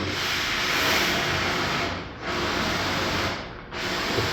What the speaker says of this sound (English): If I want just a little bit of steam, I can get just a little bit of steam.